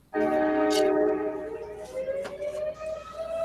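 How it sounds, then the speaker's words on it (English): A train horn sounds loud and sustained, a harmonic blast that starts abruptly and holds before slowly fading, with a fire whistle wailing alongside it. "But we got them both, the train and the fire whistle."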